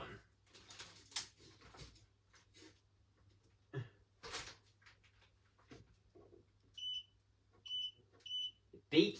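A new Logik LCD8W23 condenser tumble dryer gives three short, evenly spaced electronic beeps on startup, heard near the end after handling noises and quiet talk.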